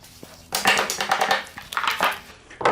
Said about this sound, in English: I can take the sharp edge of a hammer and break out all the little pieces